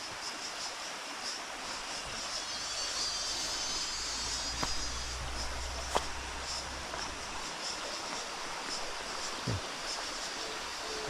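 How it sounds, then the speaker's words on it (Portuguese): Cicadas and birds fill a rural countryside morning near water: a faint high steady insect buzz with scattered chirps over a soft hiss of running water, with a couple of light clicks. "Espetáculo de ruídos, né? Cigarras, pássaros"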